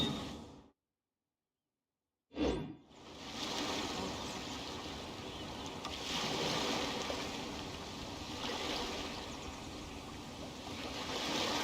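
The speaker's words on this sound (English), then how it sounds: "The sound of the ocean waves." Ocean waves in Genshin Impact roll and wash in steadily after a brief silence, opening with one sharp surge and then settling into a continuous surf roar with gentle swells.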